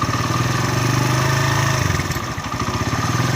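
A Suzuki GS150 motorcycle engine held at raised revs during a fault check for misfiring, a loud, steady close-up drone with a fast rhythmic pulse throughout, no talking.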